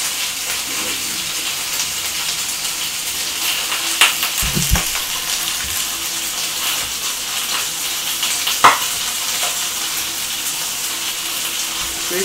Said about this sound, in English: All that sizzle, that'd be the chicken fat and the chicken breast